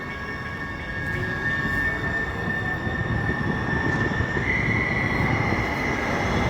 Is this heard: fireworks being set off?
no